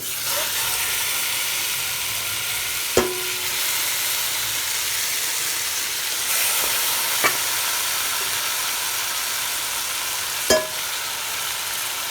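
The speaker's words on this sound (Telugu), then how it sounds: "ఇప్పుడు మనం చికెన్ వేసేసుకుందాం" Marinated chicken sizzles steadily in a hot pan, a constant frying hiss broken by three sharp clinks of a spoon stirring against the pan.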